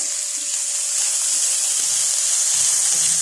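Onions tipped into hot oil with browned garlic for a meatball stew give a loud, close, steady sizzle with soft stirring scrapes underneath.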